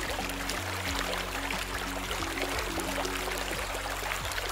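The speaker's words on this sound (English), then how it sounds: "this waterfall will give you that nice water sound" A backyard pool waterfall splashing beside a lanai with a sun shelf, heard as a steady, moderately faint wash of falling water with a continuous low rumble throughout.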